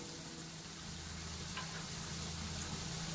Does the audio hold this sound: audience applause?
no